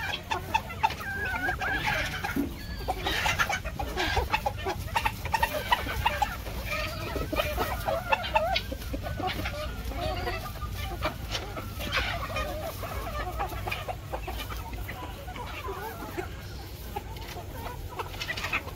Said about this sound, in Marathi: पूर्ण कोंबड्या भात खातात